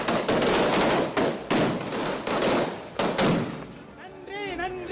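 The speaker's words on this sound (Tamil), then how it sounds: "ஏகனாபுரம் மக்கள் பட்டாசு வெடித்து கொண்டாட்டம்" Firecrackers bursting at a village celebration in Ekanapuram, rapid crackling bursts in quick succession, loud and dense, before fading into background noise and faint birdsong.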